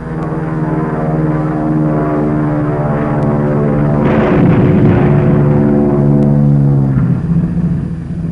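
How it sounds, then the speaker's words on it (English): Military propeller aircraft of the WWII Army Air Corps pulling away in evasive action after a practice bombing run, a loud, steady multi-toned engine drone that swells briefly mid-clip and holds close throughout. "the pilot shoots his bomb into the target and takes evasive action"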